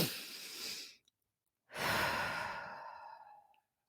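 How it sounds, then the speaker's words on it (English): A slow, deep breath: a long exhale, a pause, then another long drawn breath in a quiet room, close and soft with no talking. "take a nice deep breath"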